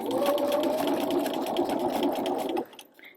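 A sewing machine with a narrow hemmer foot stitches a rolled hem in one steady, close run that stops abruptly near the end, leaving faint handling sounds.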